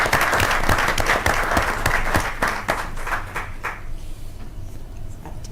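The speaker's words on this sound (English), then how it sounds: "Can we give a round of applause to our 3rd graders?" An audience at a school board of education meeting applauds third graders, a dense burst of clapping that gradually thins and fades to scattered claps over several seconds.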